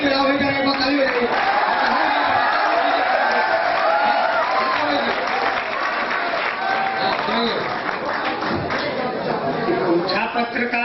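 Audience at a Hindi kavi sammelan poetry gathering clapping and cheering, with whoops and laughter mixed into a busy crowd noise while voices talk over it.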